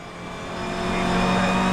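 A race car drives on a wet track, its engine a steady, building drone that grows louder over the moment, with faint tyre noise beneath and no voices.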